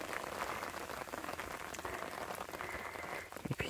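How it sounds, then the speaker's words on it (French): Rain patters steadily outdoors during a walk in the northern subarctic, a dense close hiss of drops with a few sharper taps near the end, no voices. "on continue à marcher sous la pluie"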